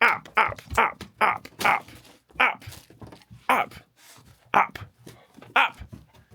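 A dog reacts to a Lego test train with a rapid series of sharp, close barks and growly bursts, separated by short pauses.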